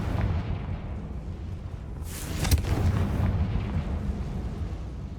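A Confringo fire spell in Hogwarts Legacy bursts into a loud booming explosion midway, a sharp crack followed by a rumbling roar that fades back into a low continuous background.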